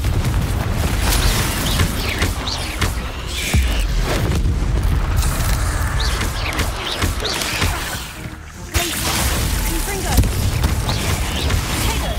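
Confringo fire-blast spells explode during combat in the video game Hogwarts Legacy, heavy booming bursts over a loud, constant rumbling game soundscape with a voice calling out between blasts.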